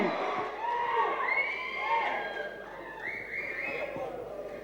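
Crowd cheering and shouting for DSP at the Pushpa success meet in Chennai, a loud jumble of whoops and high voices that rises and falls in waves, with talk mixed in.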